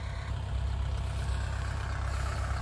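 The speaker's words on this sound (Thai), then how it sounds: "มาดูครับลุงอุยครับรถไถเป็นอะไรไม่รู้ครับ" A farm tractor engine running in a rice field, apparently faulty, idles with a steady low rumble and fairly even throbbing pulse, heard close by and alone for a few seconds.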